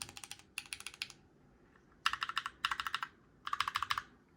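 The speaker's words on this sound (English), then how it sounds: "it feels like I'm typing on like a very just solid keyboard here" Close typing on a Keychron Q1 mechanical keyboard: quick bursts of crisp, solid keystroke clacks separated by short pauses, with no talking.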